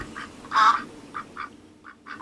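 A duck quacking sound effect plays as a series of nasal quacks, one loud one followed by several softer quacks in an uneven rhythm, with no talk.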